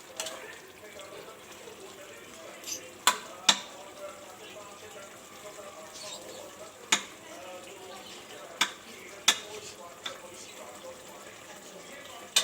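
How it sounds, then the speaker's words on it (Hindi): Vegetable curry fries in a pan while being stirred: a soft, steady sizzle runs underneath, broken by several sharp clinks and scrapes of a utensil against the pan. "बस भुनाई भुनाई और भुनाई से जब तक कि सब्ज़ी का पानी अच्छी तरह खुश्क ना हो जाए, तो मैं जब तक इसको भूनती रहूँगी"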